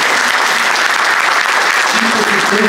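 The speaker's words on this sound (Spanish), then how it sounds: "Yo pediría un gran aplauso para él" Sustained applause from an audience at a local history talk about radio station LT13 in Oberá, honoring a former radio director; steady dense clapping fills the whole stretch with faint voices underneath.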